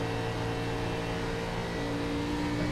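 Race car engine at partial throttle in iRacing during an Xfinity series race at Atlanta, a steady droning hum with layered engine tones, held at a constant level.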